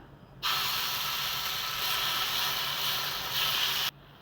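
Dosa batter made from cassava hits a hot griddle lightly greased with ghee, setting off a steady, close hiss that holds for about three and a half seconds and then stops abruptly.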